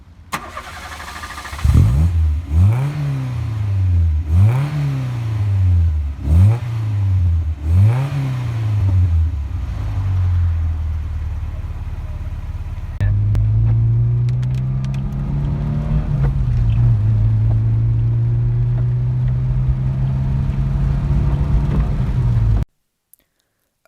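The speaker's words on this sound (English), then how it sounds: "the custom exhaust on this one has a really nice burble to it" Custom exhaust on a 1989 Ford Sierra 1.8 GL burbles through about five sharp, rising revs, then settles into a steady, deep, close-up cruising drone that cuts off abruptly at the end.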